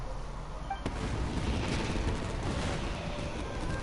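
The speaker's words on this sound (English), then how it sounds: "Yoimiya, this is turning into a bit of a fireworks display." Fireworks bursting in the video game Genshin Impact, a sharp crack followed by a steady rumbling, crackling roar of explosions at moderate distance.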